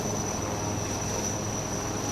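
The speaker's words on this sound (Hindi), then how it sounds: "आ चुके हैं वापस 2 एडवांस लाइट हेलीकॉप्टर्स इन जांबाज विजयी कमांडोज को एक्सट्रिकेट करने के लिए" Two Advanced Light Helicopters arrive to extract commandos at an Indian Army Day display, a steady loud rotor and engine roar with a high turbine whine held throughout.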